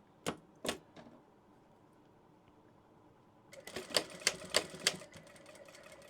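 A sewing machine stitching a scrunchie closure: a few separate clacks at first, a pause, then a rapid burst of rhythmic mechanical stitching, close and moderately quiet.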